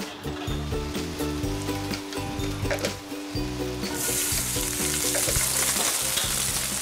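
Loud stir-frying in lard in a hot wok, crackling sizzle with scraping stirs and a steady background hum, the hiss growing brighter toward the end.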